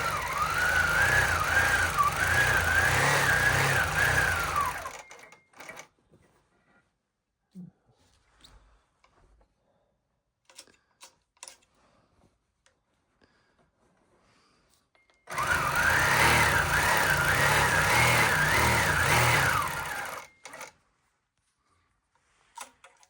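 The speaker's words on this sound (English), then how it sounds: "So now I'm going to stitch this top edge down." A quilting machine on a Grace frame stitches down the top edge of a quilt in two bursts of rapid mechanical whirring, each about five seconds long, separated by a long near-silent pause with faint small noises.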